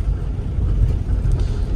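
Cars pulling up, stopping, parking and driving off at a school gate on an overcast morning, heard as a steady low engine and road rumble with no single vehicle standing out.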